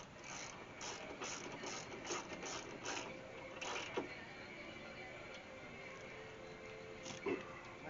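A ratchet clicks in quick repeated strokes while tightening bolts during an Ohlins suspension install on a vehicle, faint and close-miked in a quiet workshop, with a couple of sharper metallic clanks.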